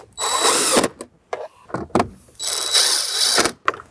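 A power drill drives two 7mm screws into a Jeep Wrangler JK factory dash bezel, two sustained whirring bursts, close and fairly loud, separated by short clicks and handling noises.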